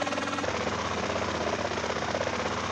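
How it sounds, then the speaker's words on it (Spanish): A helicopter in GTA San Andreas roars loudly and continuously close by, its dense rotor chop and engine drone filling the whole stretch with no talk. "Voy a dejar mi helicóptero aquí."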